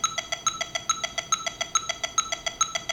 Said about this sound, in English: So I've got my metronome here set at 140 BPM, subdividing triplets.